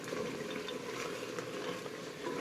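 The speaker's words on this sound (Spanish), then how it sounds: "la verdura está hirviendo toda" Vegetables boil in a pot of tomato-free guiso carrero stew, giving a steady, continuous bubbling hiss that stays even and fairly faint throughout, with no talking.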